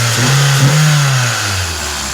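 A 2001 Toyota Celica GTS running its stock air intake revs steadily and loudly up close, the engine note holding then easing back toward idle, with no voices.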